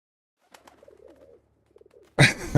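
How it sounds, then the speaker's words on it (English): A pigeon in a video game demo gives soft, close cooing calls in two short bursts, then a loud noisy burst cuts in at the end. "let's see if we can pounce on a pigeon"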